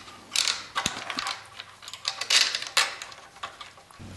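A spacer and an extra-long bolt being fitted onto a generator during a tri-fuel natural gas and propane conversion, giving close metallic clicks and ratcheting rattles in quick irregular bursts, fairly loud, with no speech.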